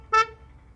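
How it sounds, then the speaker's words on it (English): A 2021 Hyundai Grand i10 Nios Sportz petrol AMT gives one short, bright honk on unlocking, a single clean toot that cuts off quickly and leaves quiet background. "Whenever you unlock or lock the car, it honks."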